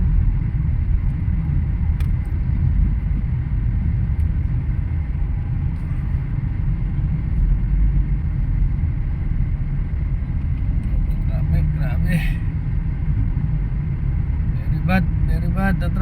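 Heavy road traffic on Commonwealth Avenue near UP, thick with cars and motorcycles, makes a constant loud engine rumble, with a few brief horn-like tones near the end and voices faintly underneath.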